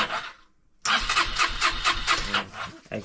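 A Honda XR125L motorcycle engine catches after a brief pause and revs loudly and close, with rapid pulsing throttle blips.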